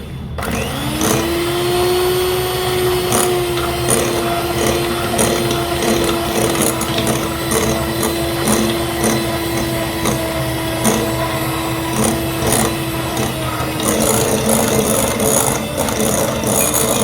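An electric mixer whirs steadily while beating three eggs into fruit cake batter, with a constant motor hum and a faint rattling clatter of beaters in the bowl, close up and uninterrupted, with no talk.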